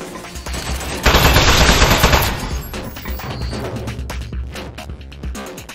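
Rapid automatic turret gunfire from the video game Aperture Desk Job, a loud sustained burst of machine-gun-like shots that swells in the middle and keeps chattering with a throbbing low rumble underneath.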